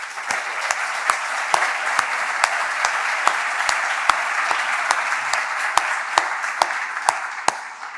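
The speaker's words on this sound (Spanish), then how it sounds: "por favor, un aplauso para nuestros 2 ponentes." Audience applause for two speakers at a plenary session of a conference, a steady wash of many hands clapping with a few sharper individual claps standing out, heard at moderate distance with no talking over it.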